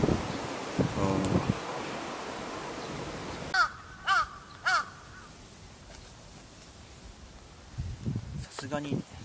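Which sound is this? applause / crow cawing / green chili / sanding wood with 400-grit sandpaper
crow cawing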